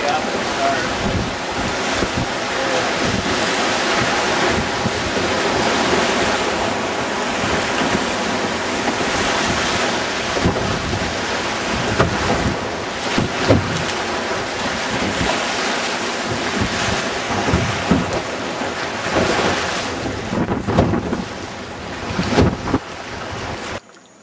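Rough water and gusting wind on the Green River during a fishing trip, loud churning waves with heavy wind buffeting the microphone throughout and occasional sharper splashes near the end.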